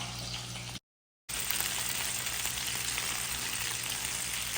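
Grouper nuggets frying in oil, a dense continuous close sizzle, broken by one short silent gap, with no voices.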